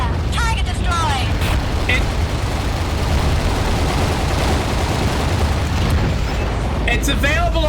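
A destroyed target explodes in the underwater video game AquaNox, a loud rumbling blast that rolls on continuously under synthetic chirps and other game effects, with someone talking over it.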